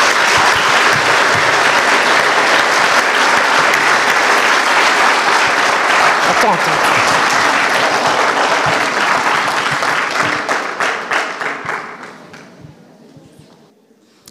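Conference audience in Marseille bursting into sustained, loud applause that fills the room, then thins into scattered claps and fades away; a single spoken word is heard near the end.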